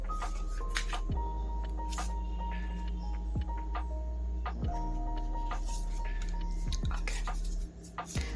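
Tarot cards being shuffled and drawn, with soft riffling and papery slides plus occasional light clicks, close and steady over a low background hum, with no talking.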